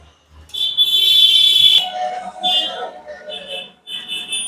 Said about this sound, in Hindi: यहाँ पे बीप साउंड आ रहा है, आपको साउंड सुना रहा हूं मैं